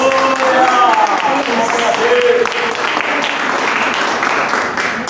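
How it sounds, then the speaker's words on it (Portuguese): Church congregation applauding during a family worship service, a steady wash of clapping that fills the clip at fairly loud level, with voices and faint musical tones mixed in beneath. "Você pode aplaudir esse Deus?"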